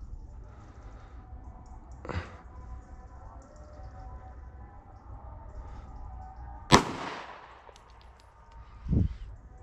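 Three sharp Canik pistol shots at target bottles outdoors, spaced a few seconds apart, each a brief crack with a fading tail, over a low steady background hum.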